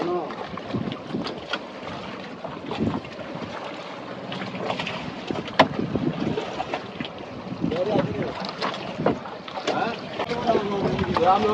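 Fishing boat out on a river on a sunny afternoon, with steady wind buffeting the microphone, water lapping against the hull, knocks and creaks, and people talking over it throughout.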